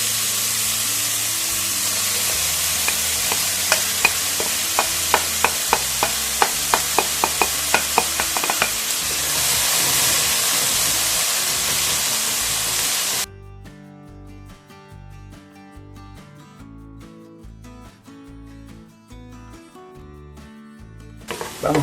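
Smoked bacon, bell pepper and onion sizzle loudly and steadily in a frying pan, with light clicks from stirring, before music takes over for the last part.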